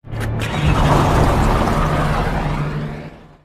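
A police car pulls away, its engine and tyre noise rising into a broad whoosh before fading out over a few seconds.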